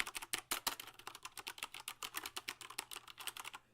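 Close-miked typing on a mechanical computer keyboard: a fast, steady run of sharp, crisp key clicks and clacks, loud and continuous for nearly four seconds with no talking.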